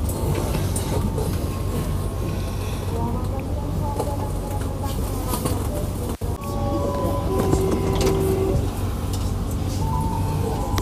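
A train pulling out of Tegal station, a steady low rumble of rolling rail cars running the whole way with a brief dropout midway, while a voice talks over it.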